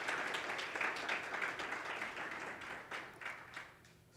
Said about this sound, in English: Let's give another round of applause for our good friends.